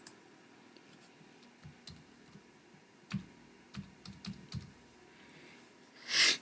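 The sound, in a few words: typing on a computer keyboard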